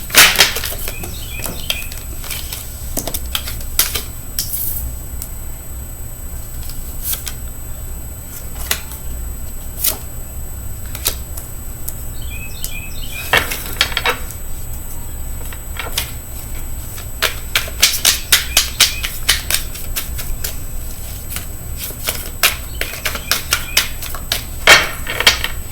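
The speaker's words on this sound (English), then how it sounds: "feel free to fast forward through the shuffling" A deck of tarot cards is shuffled repeatedly, close and crisp, with rapid riffling bursts and soft clicks and slaps recurring throughout, no talking.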